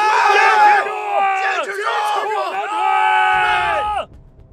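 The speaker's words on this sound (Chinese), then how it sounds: "观望台上响起了杂乱的喊声" Spectators on viewing stands shout and cheer in a chaotic mass during a fight, a loud, overlapping crowd roar of yells and battle cries that swells and fades before tailing off.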